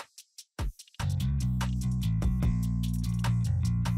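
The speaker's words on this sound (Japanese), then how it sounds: "こういう打ち込み音が入ってるんですね。" Programmed trap-style synth beat from the B section of a hybrid synth-and-band song, entering after a few choppy stutters into a dense, continuous electronic groove with punchy low end and busy percussive hits.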